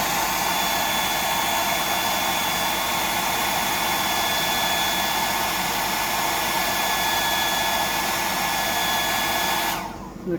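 A hair dryer blows hair dry in a steady, loud, close whooshing hiss with a faint whine, running continuously before cutting off at the very end.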